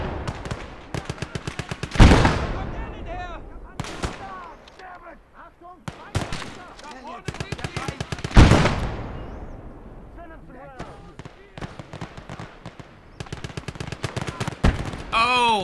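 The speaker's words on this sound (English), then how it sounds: "Damn, that gun's still going." A machine gun in the World War II game Gates of Hell fires in bursts of rapid, sharp shots, with two heavy booms that ring and fade, all loud and close, and no speech over it.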